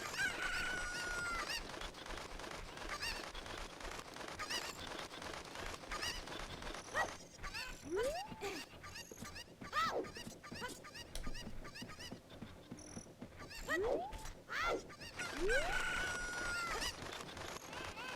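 Chickens in the video game Ocarina of Time cluck and crow in repeated calls, scattered and moderately faint over continuous game background sound.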